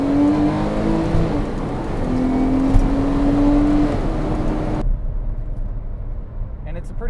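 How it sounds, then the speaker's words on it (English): A 2012 Porsche 911 Carrera S accelerating at full throttle with traction control off, the engine note climbing steadily through the gears from inside the cabin before cutting to quieter road noise. "turn the traction control off as well for the full throttle run here"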